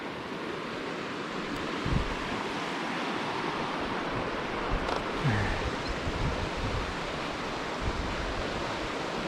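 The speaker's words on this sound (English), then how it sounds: "Should be just along this nice river all the way, so I'll have water all I want." A river flows beside a hiking trail in Idaho with a steady, broad rushing roar that stays constant throughout, mixed with some wind buffeting the microphone and faint footsteps.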